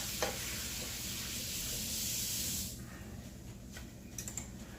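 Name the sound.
garlic and ginger sizzling with ground lamb in pan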